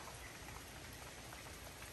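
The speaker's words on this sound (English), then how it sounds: "pag nag-rain dito, ito talaga very very wet." Steady rain falls in a dense, even hiss of drops on surfaces, continuous and moderately close with no voices over it.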